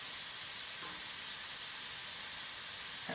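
Cauliflower florets sizzle in a warming pan as a Middle Eastern za'atar side dish cooks, giving a steady broadband hiss with a faint stir or clink near the end.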